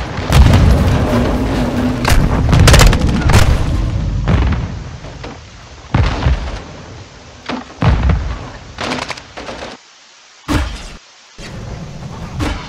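Grenades explode in the Modern Warfare 2 video game campaign, a series of heavy booms and sharp bursts, loud and close at first, then scattered blasts separated by short silences.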